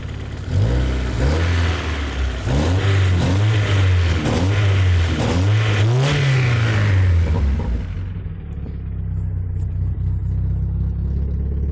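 A small four-cylinder Mazda Miata engine revs repeatedly in quick, rising bursts, then drops back to a low steady idle.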